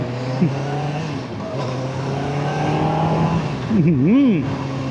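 A Kawasaki Ninja ZX6R SE four-cylinder sport motorcycle revs high and hard while being ridden, a loud steady engine whine that climbs and dips in pitch near the end, with someone talking over it.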